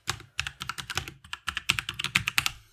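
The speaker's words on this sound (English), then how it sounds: "open up a terminal, type in .NET New Podcast" Quick bursts of close computer keyboard clicks tap out a command in a terminal, a brisk irregular run of keystrokes with brief pauses, no voice present.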